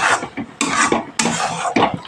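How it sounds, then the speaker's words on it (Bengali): A spoon scrapes and knocks around a pan as carrot halwa with chopped cashews and raisins is stirred, several distinct clattering strokes in quick succession. "দিয়ে ভালোভাবে নাড়াচাড়া করে মিশিয়ে দিতে হবে।"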